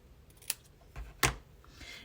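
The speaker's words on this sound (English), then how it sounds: "I'm just going to cut these at a bit of an angle" A few sharp snips of scissors cutting craft pieces at an angle, three or four quick crisp clicks spaced unevenly over a couple of seconds, close and fairly quiet, no talking.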